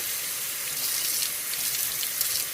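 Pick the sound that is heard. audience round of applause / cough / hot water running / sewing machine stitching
hot water running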